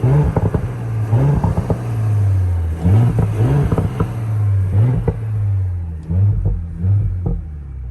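Audi B9 S5 engine revving in bursts with its exhaust valves open after a VPS resonator delete, a deep close rumble rising and falling through several throttle blips over a steady idle drone.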